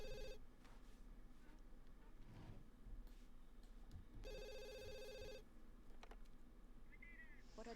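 A telephone rings inside a video game, one electronic trill near the start and another around the middle, with quiet background ambience and a person talking intermittently.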